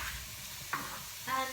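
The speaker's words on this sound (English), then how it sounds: "that's starting to sizzle nicely" Vegetables sizzle in a stir-fry pan for a Japanese-style dish: a soft, constant frying hiss with two brief scraping stirs, faint under low background noise.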